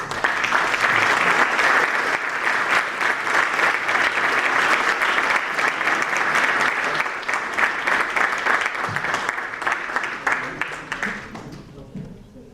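Audience applause following a university lecture, a loud dense burst of many hands clapping that holds steady for several seconds, then thins out and dies away near the end.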